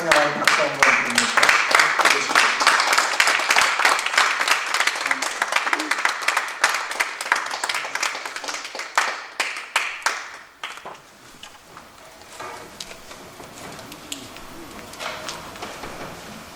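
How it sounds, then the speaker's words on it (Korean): Seminar audience of pastors and their wives at an elder welfare and inheritance law talk in New York applauds warmly to welcome a lawyer, dense sustained clapping that thins to scattered claps and fades. "우리 천일웅 변호사님 나오실 때 우리 감사하고 환영하는 박수 한번 드립니다"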